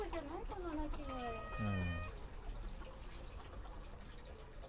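Young stray cat at a shrine giving a few rising-and-falling meows in the first two seconds, close by, followed by quieter background noise; a person talks nearby.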